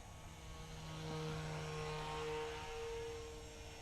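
A small engine drones steadily at a distance as a Nutball model airplane flies past, the pitch shifting slightly as it swells and then fades a little.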